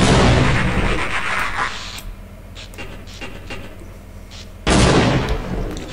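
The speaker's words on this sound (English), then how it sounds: "We're gonna try a few grenades there." Grenade blasts in the video game Half-Life: Uplink, with one loud broadband explosion at the start that decays over two seconds and a second sharp blast near the end, both close and booming.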